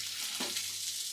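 Food browning in a pan gives off a soft, steady sizzle with faint crackles, close by and quiet, with no voices.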